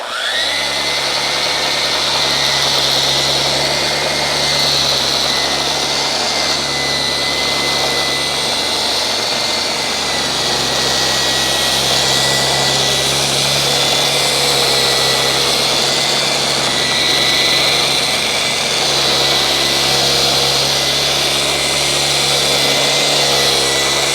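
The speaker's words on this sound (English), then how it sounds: "I'm going to do a test with some 120 sandpaper on the Rotex mode on a rough sawn piece of birch." A Festool RO 150 sander runs in Rotex mode with 120-grit paper on rough-sawn birch, giving a continuous, loud, close whirring drone with a slight grinding edge that holds steady for over twenty seconds.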